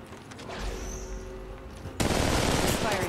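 Rapid automatic gunfire in Apex Legends Mobile rattles in a dense fusillade, loud and close, with a sharper burst of shots breaking in partway through.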